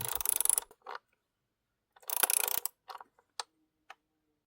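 A ratcheting torque wrench tightens a valve cover bolt on a Chevy Cruze. Close, crisp bursts of rapid clicks are separated by silences and end with a few single ticks.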